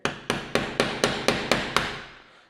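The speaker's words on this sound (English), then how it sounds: "Now I like to start using the hammer and the really stiff putty knife here." A hammer taps a stiff putty knife to pry trim off a painted-shut window in an old house: eight sharp, evenly spaced metallic strikes, close and loud, each ringing briefly.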